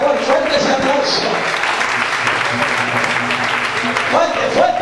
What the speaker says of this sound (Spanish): Fuerte ese aplauso, por favor, fuerte ese aplauso.